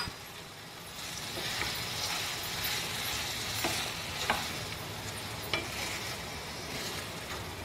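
Tomatoes fry in a pan for ridge gourd chutney, giving a steady, close sizzle with occasional soft scraping stirs and no talk.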